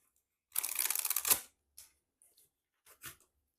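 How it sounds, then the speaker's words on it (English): Tarot cards are shuffled in one quick riffling burst of about a second, followed by a few soft, scattered card taps and rustles up close. "Let's just keep shuffling these one more time."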